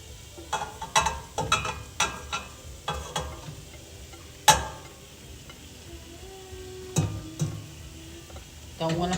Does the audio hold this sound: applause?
no